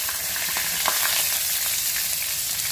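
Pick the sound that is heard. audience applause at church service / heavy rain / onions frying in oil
onions frying in oil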